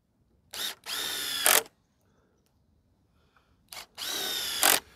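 Two bursts of a power drill whirring up and pre-drilling into a wooden board, each lasting about a second, loud and close with a pause between.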